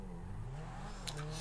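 A car in the video game GTA revs and accelerates, its engine tone climbing in pitch for a brief moment, loud and up close with a short high squeal near the end.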